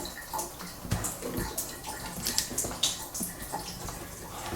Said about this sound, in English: are you going to get some water from the tap?